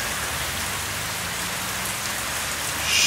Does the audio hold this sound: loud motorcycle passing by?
no